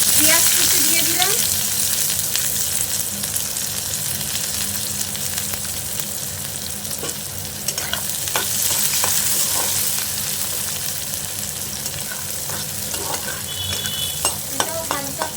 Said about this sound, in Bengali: এবার দেখো আমি পেঁয়াজ কুচি দিয়ে দিলাম